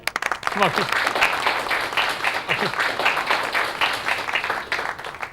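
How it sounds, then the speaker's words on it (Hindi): Classroom students clap for a classmate during a demo class at a coaching centre, a dense, steady round of applause filling the room, with a voice speaking briefly at the start. "अच्छा, तालियां।"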